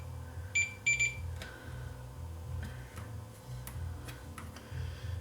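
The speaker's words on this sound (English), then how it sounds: "if I go between the collector and the base, it just beeps once" Multimeter continuity tester on an NPN transistor in a Leak Delta 75 receiver, giving a pair of short high electronic beeps early on, then faint clicks over a steady low hum.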